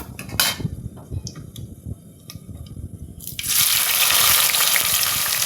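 Onions tipped into hot oil with spices and bay leaves for egg biryani, first a few clinks and scrapes of utensils on the pan, then a sudden loud, steady sizzle that carries on close by.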